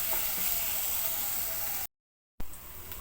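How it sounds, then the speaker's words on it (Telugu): Garlic sizzling in hot oil on a high flame, a steady broadband hiss that holds loud and constant, breaks off briefly into silence, then resumes slightly softer. "30 to 1 minute హై ఫ్లేమ్లోనే ఉంచి ఫ్రై చేసుకోవాలి"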